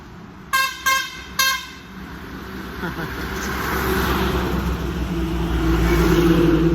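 Traffic on a Chennai highway used by trade trucks, with three short, sharp car horn beeps in quick succession, followed by a steady, growing rumble of passing vehicles and a voice talking underneath.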